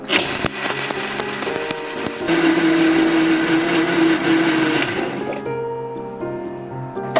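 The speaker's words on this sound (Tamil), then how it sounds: "அதையும் சேர்த்துட்டு மிக்ஸி ஜார்ல போட்டு நம்ம அடிச்சிடலாம்" A mixer grinder whirs loudly and steadily grinding rose petal chutney, its motor pitch shifting as it grinds, then winds down near the end.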